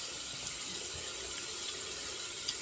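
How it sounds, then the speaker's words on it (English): Tap water pours steadily over a bar of artisan soap being rinsed before a head shave, a soft continuous hiss of running water with faint splashes throughout. "I'll take my artisan soap. I will rinse it"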